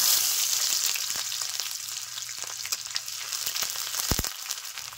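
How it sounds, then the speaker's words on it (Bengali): Chopped onion, a dried chilli and whole black cumin sizzle in hot oil as a Bengali boal fish curry begins. The frying hiss is close and steady, with a few sharper crackles and pops and no voices. "তেল গরম হয়ে গেছে, ফোড়নে দিচ্ছি একটা শুকনো লঙ্কা আর গোটা কালো জিরে। এখন দিয়ে দিচ্ছি পেঁয়াজ কুচি।"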